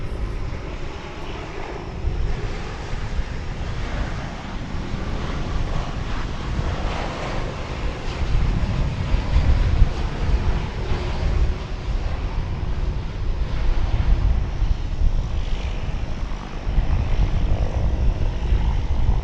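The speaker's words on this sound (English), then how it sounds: "Say aloha to a Dreamliner from Honolulu." Boeing 787 Dreamliner arriving from Honolulu at Dallas-Fort Worth Airport, a loud, continuous jet roar with wind buffeting that swells slightly as it nears, no talk.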